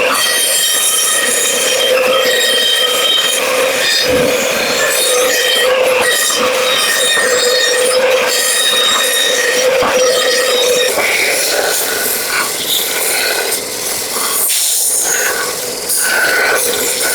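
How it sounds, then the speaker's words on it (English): A bandsaw cutting out wooden blanks, producing a loud, continuous high whine with a steady drone and brief dips as the cut shifts, with no talk. "then we can get it cut out on the bandsaw"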